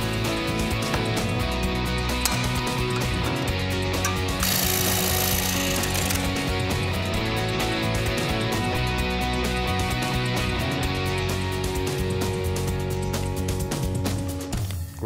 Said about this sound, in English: I've got to cut it out, which is a combination of tin snips and a jigsaw